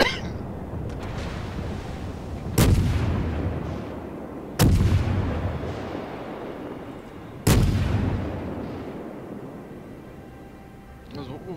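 Three heavy naval gun salvos boom out in the World of Warships game, spaced a few seconds apart, each with a sharp onset and long rumbling decay over a constant battle drone, with people talking throughout.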